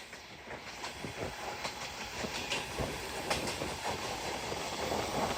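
The Rupashi Bangla Express, bound for Benapole, runs through Mawa railway station, with steady wheel clatter, repeated rail clicks and a broad rumbling hiss held at a close, even level for the whole stretch.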